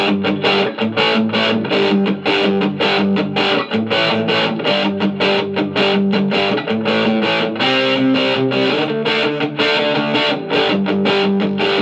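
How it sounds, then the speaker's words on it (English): Electric guitar played through a Boss ME-80 multi-effects unit on its turbo overdrive setting into a Marshall MG15HCFX amp, giving loud, steady driven chords and riffs with rhythmic picking throughout. "A little bit of turbo overdrive."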